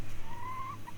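A backyard hen gives a single drawn-out, clear call close by, over low steady background noise.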